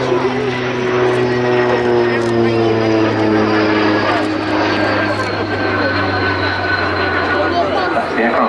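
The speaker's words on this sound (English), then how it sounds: "That's the aircraft closest to us as they pass by there." French Navy historic jet aircraft, the Patrouille de France's former mount, flying past at an air display, a loud steady engine roar with droning harmonic tones that hold for the whole pass.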